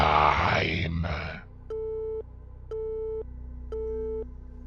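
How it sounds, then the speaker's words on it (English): Three separated electronic beeping tones, each stepping higher in pitch like an out-of-service phone signal, closing a radio broadcast after a brief stretch of talk and a low steady hum. "The familiar sounds of 3 increasingly high-pitched beeping tones finishes the broadcast as if an out-of-service phone number"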